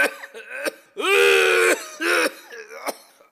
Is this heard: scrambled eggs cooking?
no